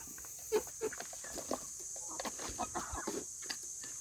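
Chickens cluck softly in short irregular bursts, a quiet farmyard scene with faint background hiss.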